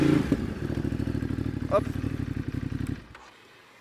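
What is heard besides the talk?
motorcycle gaining speed for a rear-brake U-turn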